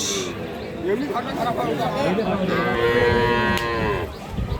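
Friesian and crossbred bulls and calves moo loudly at a livestock market, several long, low bellows overlapping amid the murmur of a busy crowd nearby.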